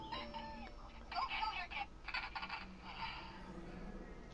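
A chicken clucks in a burst of short, bright calls within the Silent Hill Shattered Memories video game, heard faintly under players talking.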